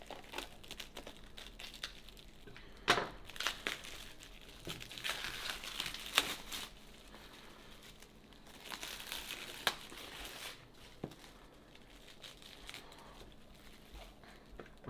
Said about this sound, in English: open up this gauge panel so that you can take a closer look without all this plastic